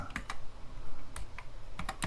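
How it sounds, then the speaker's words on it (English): Keys clack on a TRS-80 Model I computer keyboard in an irregular series of crisp, close taps with short pauses between them as a program line is entered. "If I can find the asterisk on the keyboard."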